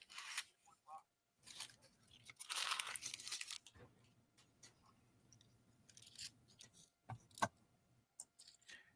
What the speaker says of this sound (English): I can actually hear in the feedback me crunching up the paper wrappers.